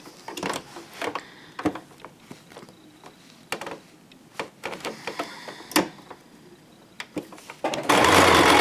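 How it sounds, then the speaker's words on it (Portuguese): Sewing machine stitching bias binding onto the edge of a fabric car organizer, short bursts of rapid stitching broken by pauses and handling clicks, ending in a loud rushing noise. "eu vou colocar o viés desse jeito, costurar nessa beirada aqui"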